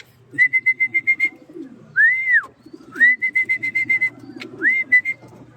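A racing pigeon arriving at its loft; a bird repeats rapid whistled notes in bursts, broken by rising-falling whistles, heard close and clear over a low background rumble.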